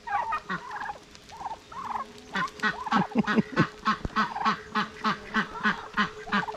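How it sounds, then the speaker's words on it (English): A flock of ducks calls in a busy, overlapping stream of quacks and honks, fairly close, with a steady low hum beneath. "It's a good day for the ducks to be out"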